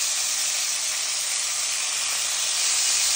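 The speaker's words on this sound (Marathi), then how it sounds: "घेतलेली फ्लावर आणि वाटाणे घालूत त्यामध्ये। आपण छान तेलामध्ये परतून घेऊ।" Cauliflower and peas sauté in hot oil with a loud, steady sizzling hiss that holds at an even level throughout, close by and without talk.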